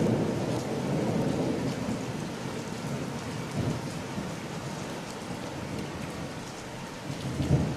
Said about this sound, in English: We've gotten a real thunderstorm here.